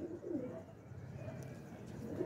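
A Teddy breed pigeon gives a soft, low cooing call, faint and brief, against quiet background noise.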